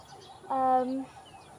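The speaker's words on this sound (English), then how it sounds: "over there is another hen" A hen makes a single short, nasal cluck in a village garden, fairly close but modest in volume, against quiet outdoor background.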